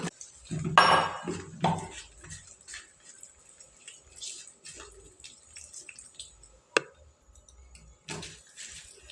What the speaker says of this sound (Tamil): இதை அப்படியே நல்லா கலந்து விட்டுக்கலாம்.